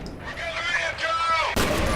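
Heavy gunfire in the first-person shooter F.E.A.R., loud blasts and a sharp burst near the end that cut across someone commentating over the gameplay.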